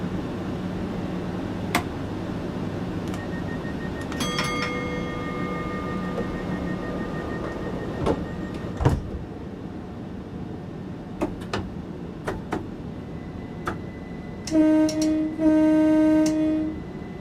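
A Train Sim World 2 train pulls out of Chatham station with scattered clunks and knocks, steady running hum, a drawn-out tone and a loud buzzing warning near the end.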